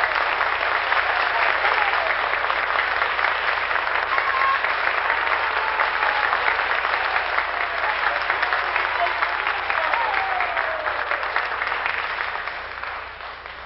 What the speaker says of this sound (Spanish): para quien también pido un cariñoso aplauso